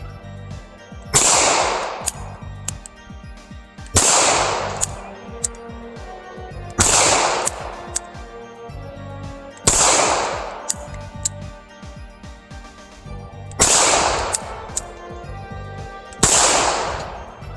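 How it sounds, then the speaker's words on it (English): Walther PPK .380 ACP pistol firing 90-grain Hornady Critical Defense rounds double action at a range: six loud, sharp shots spaced about two to three seconds apart, each followed by a short ringing decay. "function test with this carry ammo to see if we get any light strikes with the Hornady Critical Defense, the 90 grain projectile, all double action with the Walther PPK"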